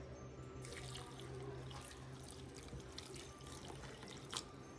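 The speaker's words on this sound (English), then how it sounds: "And we're going to add our water." Water pours from a tap into a cooking pan in a home kitchen, a soft continuous splashing rush with faint drips and clinks, quiet and close, with no talk.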